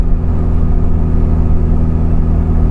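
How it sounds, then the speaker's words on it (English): Turbocharged, fuel-injected classic Mini Cooper pulls hard uphill, a loud steady engine drone with a constant low rumble and whirring turbo, close up inside the car with no talking. "That turbo comes on right away. That's nice. It does. I love the sound."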